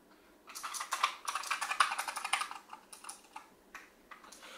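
Fast typing on a Razer Huntsman Mini mechanical keyboard, a dense flurry of close, fairly quiet key clicks that thins into a few scattered presses near the end.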